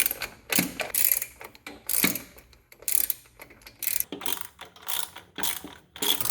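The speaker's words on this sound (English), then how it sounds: "I'm tired of always looking for these little ratchet things. So this is a 3/8." A 3/8 ratchet loosens a bolt on a tractor carburetor, giving close, quiet bursts of clicking in short irregular strokes separated by brief pauses.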